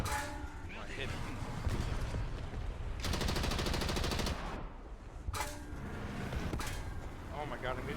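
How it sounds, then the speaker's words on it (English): Video game gunfire, sustained machine-gun bursts and rapid shots from several directions over a dense battle soundscape, loud and continuous, with a voice speaking over it. "Oh my god, I'm getting shot from all over."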